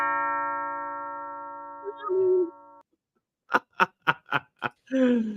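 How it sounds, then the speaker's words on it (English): A household doorbell rings indoors with a sustained electronic chime tone that fades out, followed moments later by a quick series of five sharp knocks or taps, with brief voices around it. "Oh, the bell is working."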